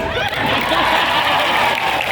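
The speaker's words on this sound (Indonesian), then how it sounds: "Yang keras tepuk tangan." An outdoor crowd at a large Maulid religious gathering on a town square claps loudly, a thick wash of applause mixed with murmurs and a few chuckles.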